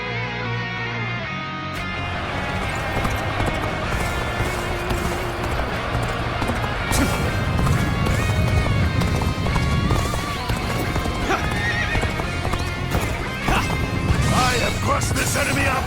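A galloping horse with rapid clip-clop hoofbeats and a whinny in the Dynasty Warriors video game, loud and continuous alongside battle music, clashing weapons and in-game voices.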